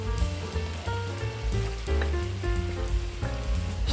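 Onions and garlic sizzle in a pan with browning mince, a steady close crackle and hiss under faint background tones, with no talking.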